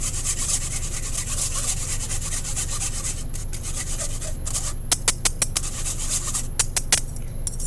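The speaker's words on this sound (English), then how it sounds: "I'm using my whisk inside the sieve, and it's helping that custard go through." Whisk working vanilla custard through a metal sieve for a cream pie, a continuous close rubbing and scraping with a few sharper taps of metal on mesh near the end.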